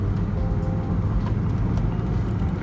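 Volvo 850 on the move after 12 years abandoned, a steady low engine drone with road rumble inside the car, continuous and close, without a distinct gear change.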